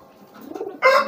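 Pigeons in a loft coo softly at first, then a louder, fuller burst of cooing rises near the end, close to the listener with no talk.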